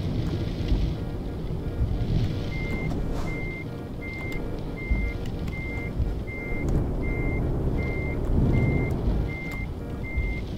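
Repeated evenly spaced reversing beeps sound from a truck parking in the Euro Truck Simulator game, a steady series of about a dozen short tones over a low rumbling engine and wind-like noise.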